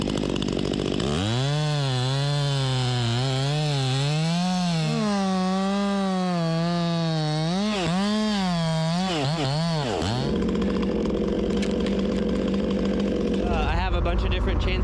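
A chainsaw cuts into a rotten cedar or fir tree, its engine loud and close, pitch rising and dropping as it bogs and revs under load, then settling into a rougher, steadier drone.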